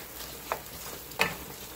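Tomato sauce sizzles softly in a pan for spaghetti, a low steady frying hiss broken by two brief stirring scrapes, close by and fairly quiet.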